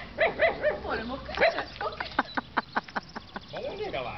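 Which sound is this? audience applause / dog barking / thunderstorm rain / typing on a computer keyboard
dog barking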